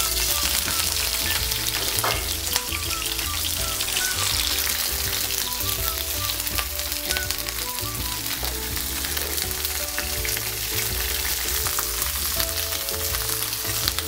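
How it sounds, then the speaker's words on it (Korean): Chicken pieces frying skin-side down in a generously oiled pan, a loud continuous crackling sizzle close up, steady throughout with background music underneath. "팬에다가 닭을 한번 살짝 구워줄 거예요. 튀겨줄 거예요."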